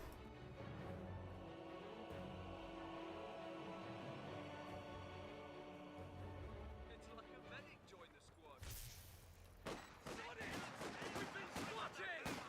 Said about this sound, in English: Each section is firing away, hitting the grenadiers.